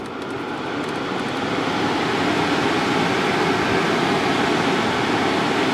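A 2019 Subaru Forester's cabin air conditioning fan runs at full blast, a loud, steady whooshing roar of rushing air that holds constant throughout with no talk.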